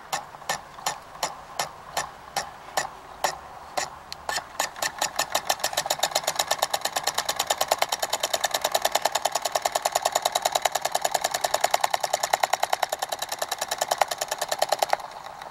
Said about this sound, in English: I'm enjoying this little motor.